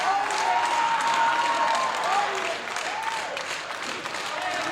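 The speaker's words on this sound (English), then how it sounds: "And I see our audience have learned how to clap." A wrestling crowd claps steadily throughout while a commentator talks over the top, the applause forming a dense, moderately loud bed beneath the voice.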